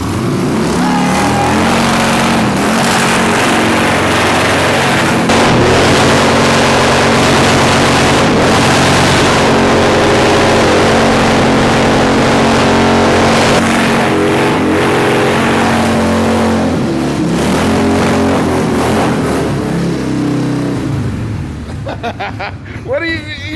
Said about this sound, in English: I didn't even know this thing did burnouts.